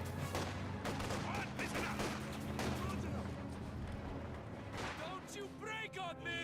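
MG42 machine gun fire in the strategy game Company of Heroes 2, rapid bursts and battle noise mixed under steady live commentary, fairly faint.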